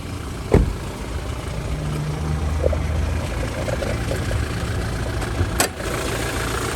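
A 2016 Toyota Fortuner GXL wagon engine idles with a steady low rumble, broken by a couple of sharp knocks or clicks nearby.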